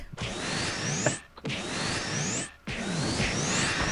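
Drilling at the house next door, heard as three long, loud grinding bursts of roughly a second each, separated by short pauses, with a steady harsh whine through each burst.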